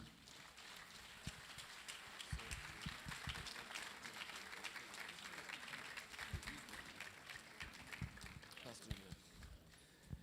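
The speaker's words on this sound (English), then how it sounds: "Another big round of applause." Audience applause fills a university lecture hall at the close of a professor's inaugural lecture, a steady dense wash of clapping with scattered sharper claps, continuing evenly for the whole stretch.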